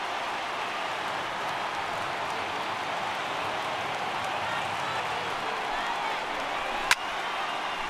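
A large baseball stadium crowd of over 39,000 standing in the MLB The Show 18 video game, a steady roaring wash of cheering noise with one sharp click near the end.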